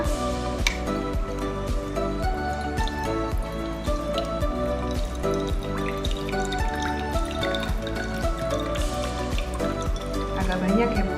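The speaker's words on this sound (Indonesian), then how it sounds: "Kita tuang dulu airnya." Warm water being poured into a container for soaking frozen breast milk, a steady splashing pour heard throughout under a woman's speech.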